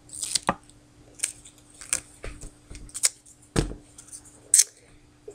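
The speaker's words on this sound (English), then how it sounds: "Get your scissors." Scissors snip through a foam sheet and duct tape for DIY earrings, a series of short, crisp cuts spaced irregularly, close and quiet with no talk.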